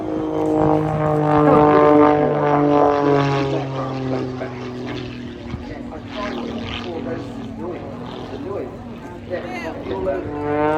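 A propeller aircraft built for the US Army Air Corps drones steadily nearby at an air show, its engine hum holding a low pitch while someone talks over it throughout.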